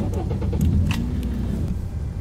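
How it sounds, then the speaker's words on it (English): A 2014 BMW 335i running just after startup, a steady low engine rumble heard from inside the car with a faint click near the middle, fairly close and with no voices. "let's get in so you guys can hear how it starts"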